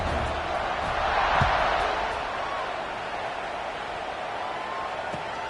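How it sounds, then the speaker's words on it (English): A football stadium crowd at an Alabama game buzzes after a score: a broad, steady murmur of many distant voices that swells briefly and then settles. "this crowd is buzzing after that last score"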